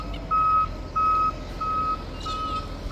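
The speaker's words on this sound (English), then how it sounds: "Sorry about the truck in the background" A truck's reversing alarm sounds in the background, about four evenly spaced steady beeps, moderately distant over a low outdoor rumble.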